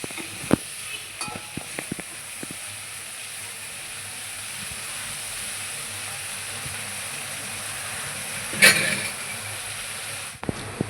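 Ingredients for dried-fish (sukat) chutney dry roast in a pan, giving a faint, steady hiss with scattered small clicks and a brief louder scrape of stirring.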